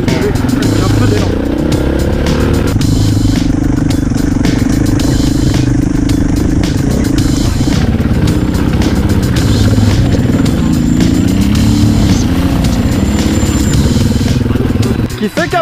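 Motorcycle engine running steadily and loudly throughout, with a rough, constant low rumble and occasional clatter; people talk over it.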